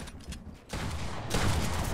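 Rapid bursts of Fortnite gunfire crackle in quick succession, growing louder toward the end, with a dense, noisy texture.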